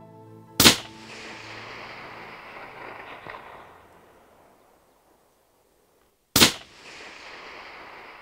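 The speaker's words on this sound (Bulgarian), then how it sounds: "произведе спокоен и прецизен изстрел на разстояние от 620 метра" Hunting rifle fired at a red deer at 620 metres in open countryside, one sharp loud crack followed by a long rolling echo that fades over several seconds, then a second sharp report near the end.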